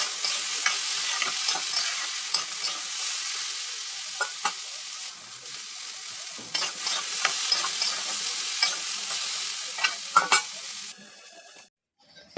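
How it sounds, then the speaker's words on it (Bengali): Food fries in a pan with a constant, close sizzle while a utensil repeatedly scrapes and knocks against the metal as it is stirred, until the sizzling drops away near the end. "নাড়িয়ে চাড়িয়ে ভাজাটা করে নিচ্ছি"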